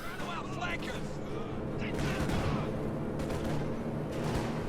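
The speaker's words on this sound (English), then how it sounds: "my brother using the P-47 rocket strafe" A P-47 rocket strafe in the strategy game Company of Heroes 2 brings a rapid barrage of crackling rocket impacts and explosions that rumble on over battlefield noise.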